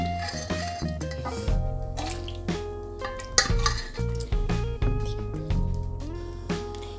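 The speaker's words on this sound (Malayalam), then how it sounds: "കുക്കറിലത്തെ ചെമ്മീൻ ചക്കക്കുരു വെന്തത് നമുക്ക് ഈ പാനിലേക്ക് ഒഴിച്ചു കൊടുക്കാം" Cooked dried shrimp and jackfruit seeds tip from a pressure cooker into a pan, with metallic clanks, scraping and wet thuds of the mixture landing in uneven bursts.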